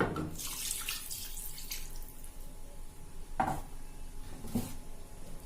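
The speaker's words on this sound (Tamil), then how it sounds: "இதுக்கு கூட ஜார் அலசி தண்ணி விடுறேன்." Running water splashes and swirls in a blender jar being rinsed, with a couple of sharper knocks of the jar against the sink.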